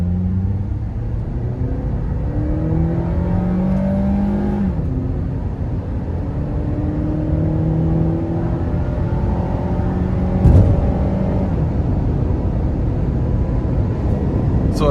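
A naturally aspirated 2.4-litre four-cylinder engine in a 2013 Honda CR-V EX-L revs up under hard acceleration, its drone rising steadily through the gears over continuous road and wind noise.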